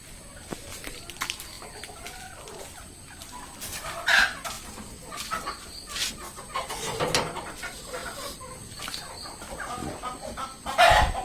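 Chickens, a native breed, clucking on and off on a small farm, with sharper squawks and an occasional crow, moderately close with farmyard background.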